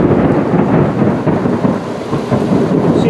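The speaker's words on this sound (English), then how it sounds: "Lightning, thunder." A loud thunderstorm fills the air with a continuous deep rumble of thunder over steady heavy rain, broad and enveloping outdoors with no voices.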